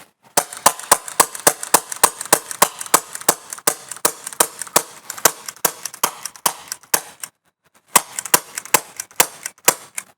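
Rapid sharp pops from a CO2-powered toy blaster pistol fire in a steady stream, briefly stopping for about a second before another burst resumes.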